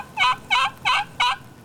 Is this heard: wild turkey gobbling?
yes